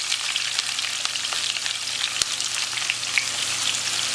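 Sliced onions fry in hot oil for dhaba-style mutton keema, a dense steady crackling sizzle close to the pan with small pops and a faint clink, unbroken and without talking.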